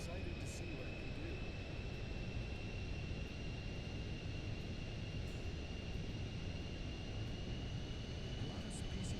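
A Pilatus PC-24 light business jet in Microsoft Flight Simulator 2024 gives a steady, unbroken engine drone with a faint high whine, holding even for the whole stretch.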